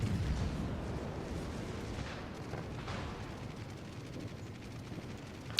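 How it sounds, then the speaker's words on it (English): Battleship guns, including a Warspite's, fire in a naval battle in World of Warships, heavy rumbling booms that roll on through the whole stretch and then fade, with a sharp crack near the end. "he's firing his guns"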